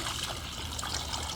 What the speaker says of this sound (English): Pour some vinegar into a pitcher.